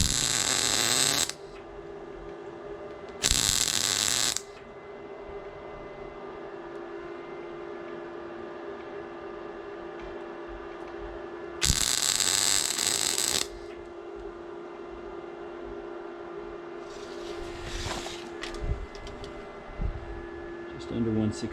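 Tack welding on a rusted steel fence rail gives three short, harsh crackling bursts of about a second each, spaced apart over a constant low electrical hum.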